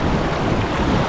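Ocean waves rolling onto a rocky shore, a loud, steady broadband wash close by with no break.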